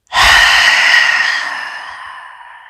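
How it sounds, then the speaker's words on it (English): A forceful yoga exhale with the tongue stuck out, a loud breathy rush of air that starts suddenly and trails off gradually over nearly three seconds, close to the mic. "Take a deep breath in. Exhale, stick out your tongue."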